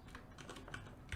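Quick, light keystrokes on a computer keyboard as a file name is entered, a short run of close, soft clicks.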